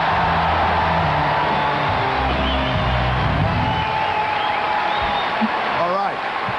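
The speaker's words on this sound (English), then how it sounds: "You get a cheer before you've done anything." A live comedy audience in London in 1988 cheers, whoops and claps for a comedian, a dense, steady crowd roar filling the room, with a voice speaking over it.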